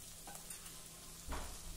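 Lentils and peanuts sauté in oil, giving a faint, steady sizzle with a couple of soft stirring scrapes.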